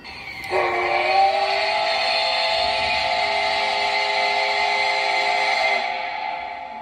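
A long, sustained steam train whistle at a railway museum in Mojiko, Japan, blows loud and steady for several seconds, then fades out, with a sharp click just before it starts.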